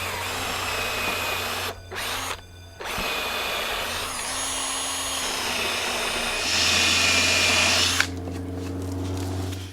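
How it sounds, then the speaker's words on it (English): A power drill bores holes into the well board of a wooden workbench, whining steadily at close range with two brief pauses, then a louder, higher-pitched run near the end. "I'll drill a couple of holes in here"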